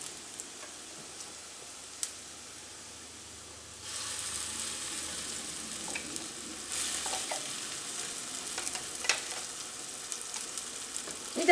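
Roasted ground coconut hits hot oil with turmeric for a Kerala crab curry, a soft hiss that swells into a steadier, louder sizzle partway through, with faint stirring scrapes and no talking.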